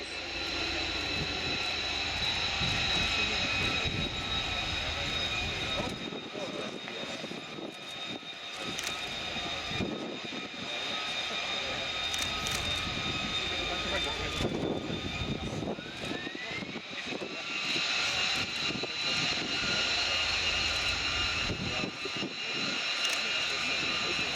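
Loud, sustained jet engine roar with a rising whine as an F-35B rolls down the runway on takeoff at an air show, a few voices faintly underneath.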